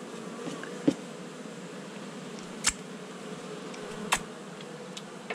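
Flying honeybees drone continuously around an open hive, close by and even in level, while a few sharp ticks and knocks from handling stand out at intervals; no speech.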